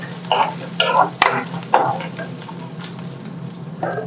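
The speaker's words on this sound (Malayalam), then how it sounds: "നമുക്കത് വറുത്തിട്ട് വരാമേ" A soft steady sizzle of coconut pieces frying in a pan until browned, with a few scraping stirs and clinks breaking through.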